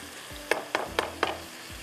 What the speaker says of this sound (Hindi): ये यहाँ पर इसको थोड़ा सा हम भूनते हैं